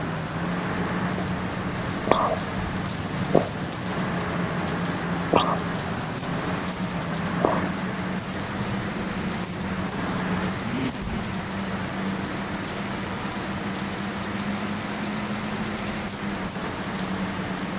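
A steady downpour hisses against a moving bus over its low, droning engine hum, with a few short clicks and taps scattered through the continuous rain.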